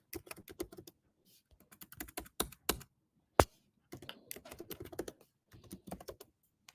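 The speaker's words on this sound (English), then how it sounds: "It's not exactly what I'm typing." Typing on a Dutch-layout computer keyboard, a quick run of close key clicks in uneven bursts with short pauses and one sharper, louder keystroke near the middle, no talking.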